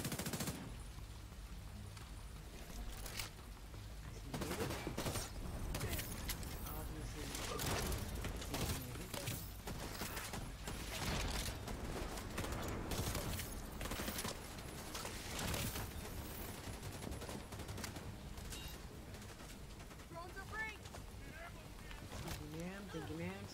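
Sustained covering gunfire in The Division 2 at Coney Island's ball park and amusement area: dense, rapid bursts of automatic fire run almost continuously for over twenty seconds, partly under talk.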